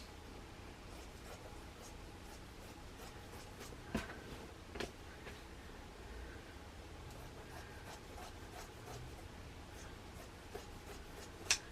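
A rotary cutter runs along quilt backing fabric in a quiet sewing room. It makes a soft, steady scraping rub with a few brief sharper ticks.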